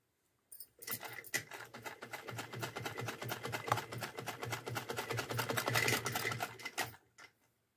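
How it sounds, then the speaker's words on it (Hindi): A sewing machine runs a close, even seam on a Laddu Gopal doll outfit made for Holi, its needle hammering out a rapid, steady rhythm for about six seconds before stopping, with a couple of final clicks. "तो फ्रेंड देखो इस तरह से इसकी सिलाई करनी है, बिल्कुल बराबर बराबर में हम इसकी सिलाई करेंगे।"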